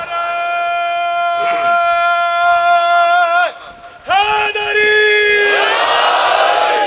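Majlis audience at a Muharram gathering in Nishter Park chanting slogans in response, loud massed voices in sustained call-like bursts, breaking briefly before a renewed swell of collective shouting.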